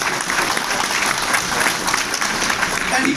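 An audience at a gun violence emergency summit in a Manhattan church applauds a first deputy mayor, dense, steady clapping from a large indoor crowd that runs loud throughout with some voices mixed in.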